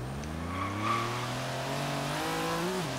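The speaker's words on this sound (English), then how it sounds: "a lot of this now is just me spinning out because I'm getting a little too anxious" A Forza Horizon 3 car spins out mid-drift, engine droning and shifting pitch while tires squeal underneath, steady and fairly close with no talk.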